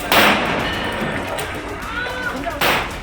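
Two sharp bangs from a police pistol ring out in Sambhal, one at the start and one near the end, over a noisy crowd murmur.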